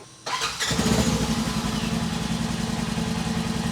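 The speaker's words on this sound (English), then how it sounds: "now close your cap and let your engine run for probably about 10 to 15 seconds" A Polaris vehicle engine cranks and fires up after an oil change, then settles into a steady, close, rumbling idle that runs on evenly to the end.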